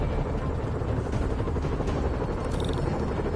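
Helicopter rotor and engine drone in the Marvel's Spider-Man video game, a steady dense rumble filling the whole clip with faint higher clatter mixed in, no voices.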